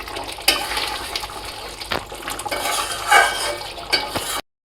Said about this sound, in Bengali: সেই মশলাটা আমি এবার এর মধ্যে দিয়ে দেবো, দিয়ে এবার নাড়িয়ে দেবো